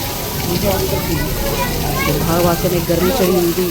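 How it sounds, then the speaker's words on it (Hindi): Steady rain falls in a city park in Dehradun, a continuous broadband hiss of water on surfaces running throughout while people talk over it close by. "ये लो बारिश आई गई है।"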